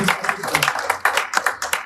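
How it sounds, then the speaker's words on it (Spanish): A church congregation claps in uneven, overlapping bursts, close and fairly loud, with voices mixed in among the claps. "Demos aplauso al Rey de Reyes y al Señor de Señores."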